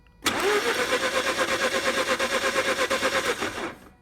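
A Mazda RX-8 rotary engine cranks over steadily for about three and a half seconds, a close, loud, even pulsing whir of the starter that stops abruptly, with no voices.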